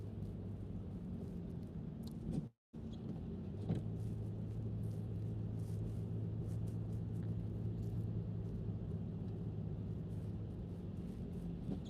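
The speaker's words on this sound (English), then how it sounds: "We are driving nice and steady, 45 miles an hour." A car cruising at a steady 45 miles an hour on a Charlotte road, heard from inside as a constant low rumble of engine and tyre noise with a brief dropout partway through; no talking.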